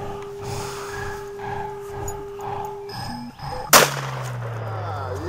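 One sharp gunshot bursts out partway through as an old computer running Vista is shot, close and loud over a low hum and rustling, followed by a lingering ring.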